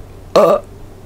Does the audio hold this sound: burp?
yes